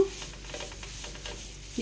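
Dried tamarind leaves roasting over a low flame, a dry rustling scrape of stirring in the pan with a faint sizzle underneath, brief and close.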